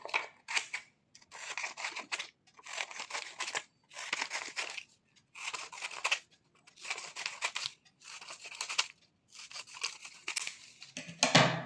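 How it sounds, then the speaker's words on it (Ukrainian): Scissors cutting straight strips of paper for a children's craft, about nine even bursts of crisp snipping separated by short pauses, close and clear with no talk. "будемо різати прямі лінії. Якщо ви ще не вмієте працювати ножицями, нехай батьки вам трішечки допоможуть"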